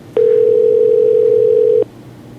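A steady telephone dial tone sounds loudly and alone for about a second and a half while a call connects to a phone-based voice assistant.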